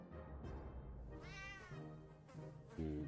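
A cat meows in a quiet, faint, drawn-out call with a rising and falling pitch, followed by a shorter second meow, set against a low background drone.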